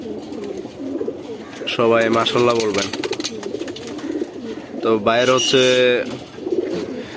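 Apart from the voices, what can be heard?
pigeon cooing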